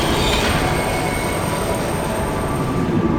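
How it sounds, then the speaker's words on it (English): Tram cart brakes screech in the video game Riven, a steady loud metallic squeal over rumbling wheels on rails that persists throughout without pause. "That screeching sounds like something that triggers the brakes on it."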